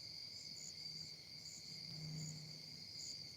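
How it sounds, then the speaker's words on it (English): Crickets chirping steadily on a fall evening beside a bonfire, a continuous high trilling chorus at moderate distance with a faint low rumble underneath and no talking. "Can you guys hear all the crickets and everything?"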